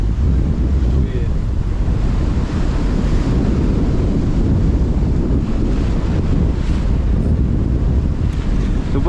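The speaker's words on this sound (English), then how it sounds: "The waves are so steep around here." Strong wind roars across the microphone with the heavy wash and slap of steep ocean waves around a sailboat pushing through wild weather between Fiji and Vanuatu, loud and continuous throughout.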